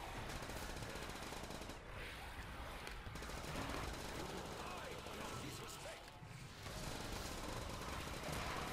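Rapid automatic gunfire crackles in a custom zombies video game map, dense bursts of shots with brief pauses, mixed with game effects and players talking.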